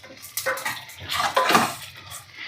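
Peeled tomatoes being gently mixed in a pan for tomato bath, giving soft wet squelching and light scraping strokes that come and go over a couple of seconds, with no talking.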